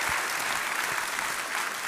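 Audience applause at a plenary conference gathering, a dense, steady wash of many hands clapping throughout, moderately close and even in loudness.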